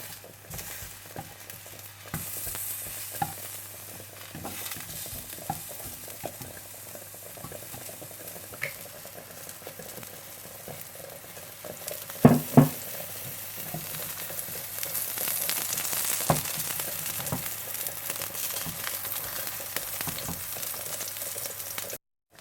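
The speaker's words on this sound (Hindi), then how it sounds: "थोड़ा थोड़ा तेल डालकर आप फ्राई करते जाएं" Eggplant slices fry in a pan of oil for baingan borani, giving a continuous close sizzle. Occasional light clinks and scrapes from turning the slices break through, with no one talking.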